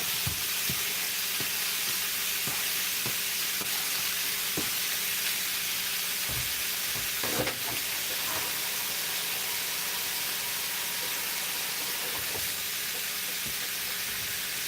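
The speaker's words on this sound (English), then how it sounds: "And now we're going to do the bacon." Bacon frying in a pan makes a faint, steady sizzling hiss throughout, with occasional soft clicks and pops close by.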